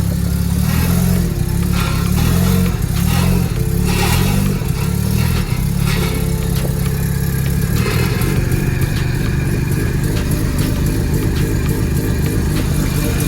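A rotary-engine trike with a faulty exhaust runs loud and close, a continuous rough, buzzing drone with pulsing throttle changes and a shift in tone partway through, no talking over it.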